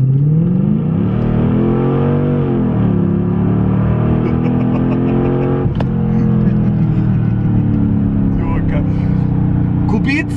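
A new car's engine revs steadily and loudly from inside the cabin, its pitch rising and dipping in smooth sweeps, with people talking over it throughout.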